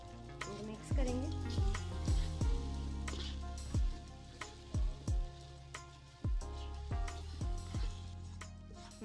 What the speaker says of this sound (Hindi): मसाले को दो तीन मिनट तक मीडियम टू स्लो आंच पे भून लेंगे